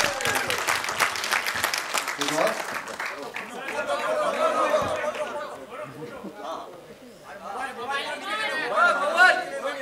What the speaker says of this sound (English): Give them a huge round of applause, guys